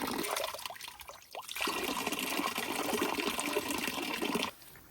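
Steady rushing mountain water pours and splashes without a break beside a farmer's hut in the Swiss mountains, then drops off abruptly near the end, leaving a quieter background.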